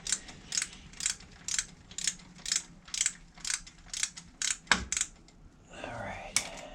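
A ratchet loosens an oil primer fitting on a 6.0 LQ4 LS engine swapped into a 1971 Chevelle, giving a steady run of about a dozen crisp, evenly spaced clicks, close and quiet, ending in a brief clatter.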